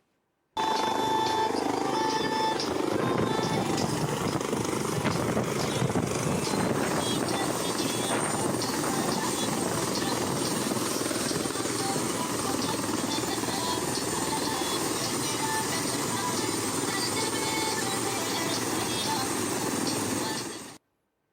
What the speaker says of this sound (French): L'atterrissage d'un hélicoptère blanc